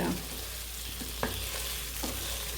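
Chicken fries in a kadai with a steady, close sizzle and crackle, while a utensil stirs it with a few soft scrapes and knocks. No voices are heard.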